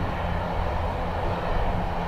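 Airliner taking off from runway 10 right at Dublin Airport in gusty wind, a steady, loud broadband engine roar holding constant throughout with no voices.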